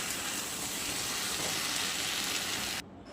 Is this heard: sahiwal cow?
no